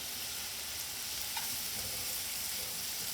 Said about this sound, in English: now that the butter is melted, I'm going to go ahead and add the bay scallops in